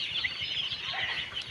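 Fourteen-day-old broiler chicks in a poultry shed, a dense, continuous chorus of high peeping and clucking from many birds, steady and moderately loud with no talk.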